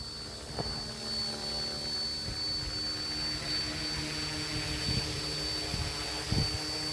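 A large RC helicopter hovers nearby, its rotor and motor giving a steady, close whine with a high tonal hum and a broad rushing wash, holding even throughout with a few soft bumps.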